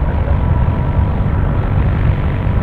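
A Cirrus SR-22 propeller airplane at Tampa airport, a steady loud engine drone with broad rumbling noise, heard from nearby without talk.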